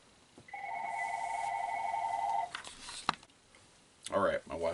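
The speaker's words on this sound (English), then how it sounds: "And there goes the telephone." A telephone rings indoors at home: a steady electronic trill running about two seconds, then brief clatter and a short burst of speech-like sound afterward, moderately loud and close.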